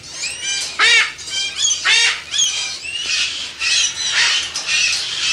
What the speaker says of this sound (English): this is the rather noisy part of the bird park that the public never sees